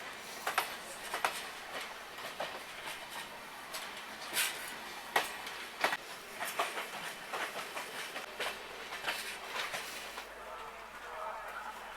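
The Patalkot Express rolls along the rails with a steady rumble and irregular clicks and clacks of the wheels, heard from on board at moderate level with faint talk underneath.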